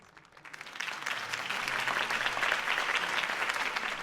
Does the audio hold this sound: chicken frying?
no